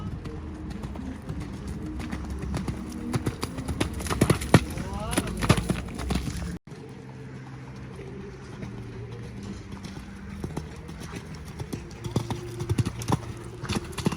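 Horse hooves on a show jumping course, steady clip-clop footfalls close by under a rider's coaching voice, with pigeons cooing and birds calling in the background; the sound changes abruptly midway.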